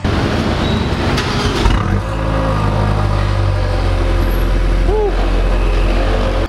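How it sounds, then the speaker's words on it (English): An Abarth 595 Competizione small hot hatch with quad exhaust pipes idles loudly and close, a steady low engine drone with a brief shift in tone partway through. "you get quad exhaust pipes all around and this sounds pretty menacing for a very small car"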